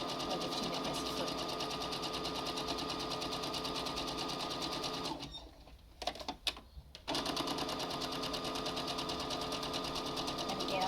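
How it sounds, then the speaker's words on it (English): A sewing machine zigzag-stitches a closed seam on a cloth face mask, its rapid rhythmic whirring steady and close, pausing briefly midway amid a few clicks before resuming. "I'm doing the zigzag as a closed seam rather than a flat seam."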